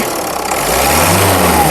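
A Ford EcoSport Titanium engine runs steadily and then rises in pitch as it is revved, a low continuous rumble close by with no voices.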